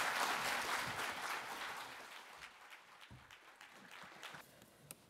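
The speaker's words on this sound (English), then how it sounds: "Give him a warm applause." An audience at a talk applauds for the next speaker, a dense burst of clapping that slowly fades over a few seconds.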